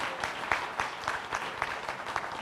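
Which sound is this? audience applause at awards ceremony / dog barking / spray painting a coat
audience applause at awards ceremony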